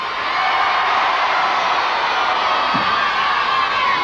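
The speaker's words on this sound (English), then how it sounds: "Where are the cheers for Whitby?" Broad, steady crowd noise from a Yorkshire audience at a 1981 It's a Knockout contest between Whitby, Filey and Hull, a continuous roar of cheering and shouting that stays loud and unbroken throughout.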